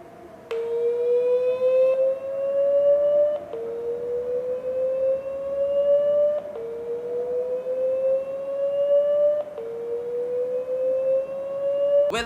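A Redmi Note 10 running MIUI plays its speaker dust-cleaning tone: a loud, steady electronic tone that repeatedly sweeps upward, restarting about every three seconds, heard alone with no talk.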